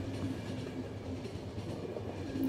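A moving train in the video game The Final Station rumbles along with a steady low drone and faint rhythmic clickety-clack, continuous and moderately loud with no talking.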